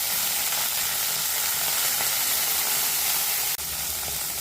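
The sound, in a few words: vegetables (beans, green peas) frying in hot oil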